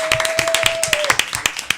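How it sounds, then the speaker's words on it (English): A studio audience claps for guests on a live local show, a dense run of sharp hand claps at a steady pace throughout, with a long steady tone sounding beneath the first half. "Clap it up once again for our guests."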